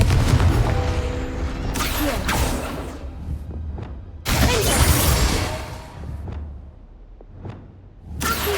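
A Confringo fire spell blasts in Hogwarts Legacy with a booming, whooshing explosion. Heavy thuds and rushing bursts come in several loud waves, broken by short crackling impacts.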